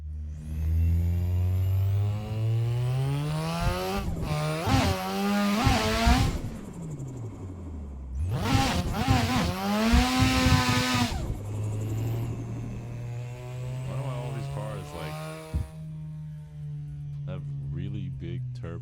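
Drift car engine with big turbos in a game, revving and rising in pitch, then falling back between pulls, loud and close, with someone talking over it.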